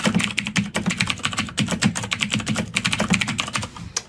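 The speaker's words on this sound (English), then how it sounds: "I'm going to type in a lyric from a song that I like." Someone types on a computer keyboard, a quick, uneven run of close, crisp key clicks with brief pauses between bursts, heard alone.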